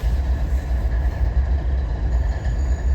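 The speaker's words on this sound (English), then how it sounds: "This stupid train is ticking me off." A train passes near a wooded campsite, producing a continuous deep rumble and low mechanical drone that holds steady and fairly loud, with no talking.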